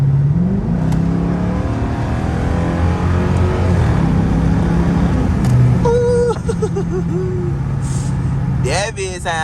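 A loud Dodge R/T with a modified exhaust idles and rumbles steadily, then revs sharply toward the end, heard from inside the car during a late-night gas station run with someone talking over the engine.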